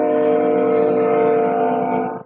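A train horn sounds nearby at 2 a.m., one loud, steady, sustained blast that holds for about two seconds before cutting off abruptly.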